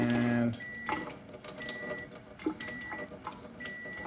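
Water runs from a tap during a water-ionizer test for strong Kangen and strong acidic water, a steady rushing flow with a few faint clicks and short tones over it.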